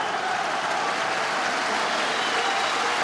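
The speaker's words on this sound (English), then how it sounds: "Applause rings round the ground" Football stadium crowd applauding at the final whistle of a 1993 Scottish Premier Division match between Partick Thistle and Rangers, a broad, steady wash of distant clapping throughout.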